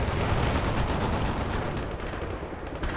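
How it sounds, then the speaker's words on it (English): Dense artillery barrage in the 2007 real-time strategy game World in Conflict, a continuous loud roar of overlapping gunfire-like blasts and explosions rumbling without pause across the whole stretch, with no voices. "Artillery barrage turned the target area into dust"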